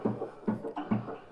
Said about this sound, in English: what you're hearing is a little bit of side slop in the rod, in the wrist, up at the piston end